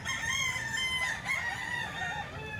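A rooster crows close by, its long strained call drawn out over several seconds, with faint background noise around it.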